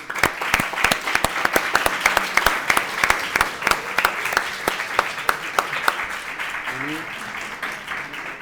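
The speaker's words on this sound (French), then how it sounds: "Je pense qu'on peut les applaudir." Audience applause at a high school eloquence contest rings out for the student competitors, crisp individual claps standing out over a steady crowd clatter that continues throughout, with a brief voice near the end.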